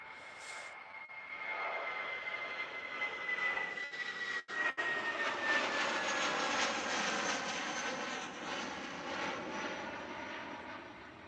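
A SkyWest CRJ 200 regional jet at Houston airport roars steadily at a distance, its engine noise rising and easing with a thin high whine running through it, with no voices.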